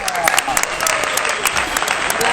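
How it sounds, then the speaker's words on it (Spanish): A studio audience gives a loud burst of applause to welcome a guest onto a Spanish-language health podcast: dense, continuous clapping that holds steady for the whole stretch. "Vamos a recibirla con un fuerte aplauso"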